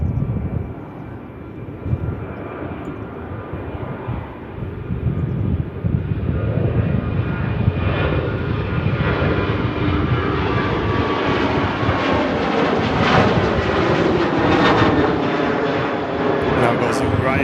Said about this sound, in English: Now goes Ryanair to Milan.